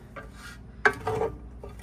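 A clean spoon scrapes and scoops cooked rice into a bowl, making several close scraping strokes with a sharp clink of metal on the dish.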